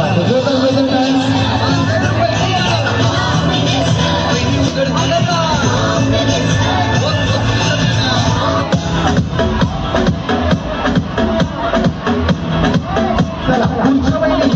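An audience at a women's Home Minister prize program in Kuruli, Pune, chatters and calls out amid loud crowd noise, then breaks into a run of dense, rapid clapping over the last several seconds.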